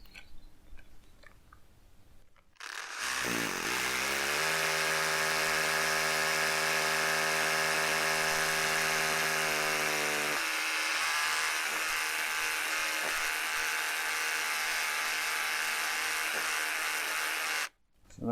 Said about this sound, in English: quick screw just to hold it in position